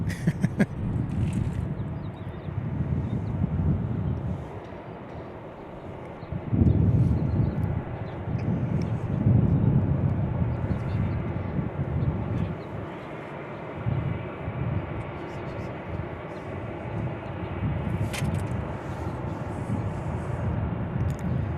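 A Delta Airlines Airbus A320 from Orlando rumbles steadily with broad engine noise, rising and falling through the stretch, with wind buffeting the microphone.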